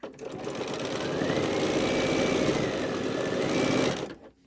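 A sewing machine stitches a rectangular fabric piece in quilt piecing, running steadily and continuously for about four seconds at close range before stopping abruptly.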